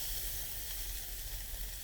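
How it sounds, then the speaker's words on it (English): Burgers sizzle on a Pathfinder PFM40 charcoal hibachi grill, giving a steady, close hiss that runs without a break and has no voices over it. "and we've got sizzling going on,"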